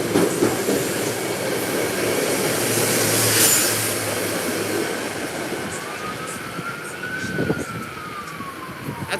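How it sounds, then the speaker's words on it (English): An FDNY EMS ambulance siren from a Federal Signal PA 4000 wails faintly near Fordham, partly buried under the loud rumble and clatter of passing trains. "I can tell by the siren. Federal Signal PA 4000."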